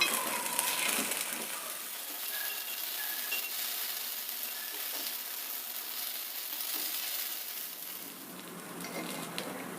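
Paddu sizzles and fries steadily in a hot pan while being turned, a dense continuous crackle with a few small scraping clicks, close and fairly loud throughout with no talking.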